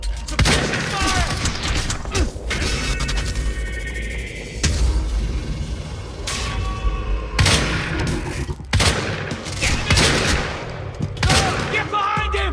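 Dense gunfire from a firefight in the video game Quantum Break, with rapid bursts and heavy booms running continuously and loud throughout, and shouted voices mixed into the battle.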